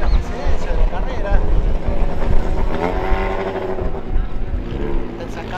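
Race cars in a Clase 1 heat at the Peñarol Bulnes circuit, engines roaring steadily and loudly throughout with a commentator talking over them.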